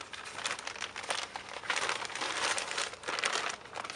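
A plastic bag, apparently one holding dry dirt, crinkles and rustles steadily up close as a corner is snipped open, with brighter bursts of crackling throughout.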